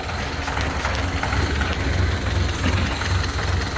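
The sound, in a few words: Ford Model A engine idling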